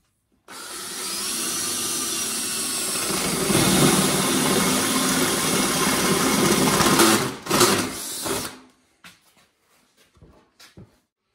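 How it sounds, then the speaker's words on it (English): A power drill with a 3/4 paddle bit bores a hole into a wooden board for a beehive, a loud steady whirring that rises as the bit bites, then cuts off, followed by a few faint clicks and knocks. "whenever you're drilling this into the board, make sure you're angling upward so no rain will get on the inside of the swarm hive"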